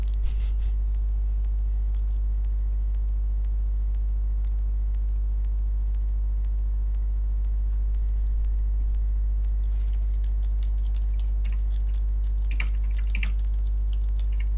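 Computer keyboard typing during an evening Dungeons and Dragons stream: a quiet, continuous run of light key clicks over a steady low electrical hum, with a denser flurry of keystrokes near the end.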